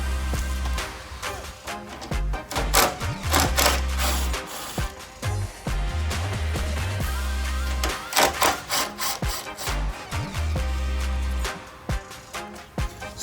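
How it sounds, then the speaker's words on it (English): A wrench turns on bolts to remove the fenders of a Jeep. Close, busy ratcheting and metallic clicking come in irregular bursts with short pauses, and no one speaks. "Let's get our wrench and start removing some of these fenders."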